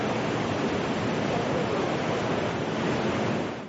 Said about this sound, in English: Coastal defences built by Japan to protect itself from giant waves were no match for this colossal tsunami